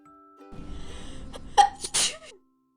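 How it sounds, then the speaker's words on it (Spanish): A single sneeze from an animated Mrs. Claus while she takes a tray from the oven, a short sharp inhale building up and then a loud, close burst. "Estornudó mientras sacaba otra bandeja del horno."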